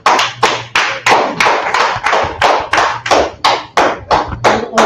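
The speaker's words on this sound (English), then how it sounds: "clap it up for the class" Audience clapping together in a slow, loud, rhythmic unison beat, about a dozen sharp, evenly spaced claps close by.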